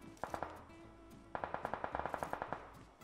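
Automatic gunfire in the mobile battle royale game PUBG Mobile: two quick bursts of rapid sharp shots, a short pause, then a longer rattling burst of about a dozen rounds, fairly faint and with no talk.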